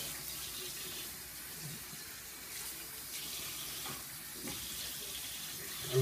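Water runs steadily from a tap or shower, rinsing conditioner out of a young girl's hair; the flow sounds close and even as a continuous broadband rush, with no talking.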